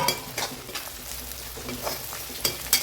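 Onions with green chilies and curry leaves sizzle and fry in a pan for a kuzhambu, with steady close crackling broken by a few sharper stirring scrapes, and no talking.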